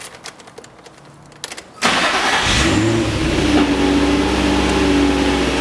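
A Viper remote starter fitted to a manual-transmission car: a brief quiet stretch, then the engine cranks and catches, settling into a steady, close, loud idle with no talking.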